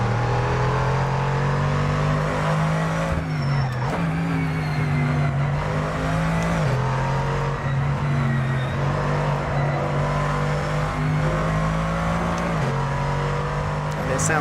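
Dodge race car in a GT2 racing video game, its engine droning steadily and close throughout with a few brief dips and rises in pitch as it shifts or lifts, alone with no talk.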